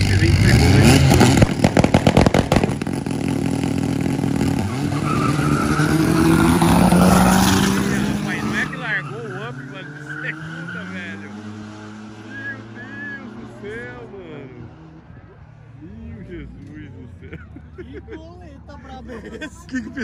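A VW Up with a stage 4 tune and a Honda VTi launch side by side in a drag race, both starting in second gear, engines roaring loud and close before fading into the distance as the cars pull away.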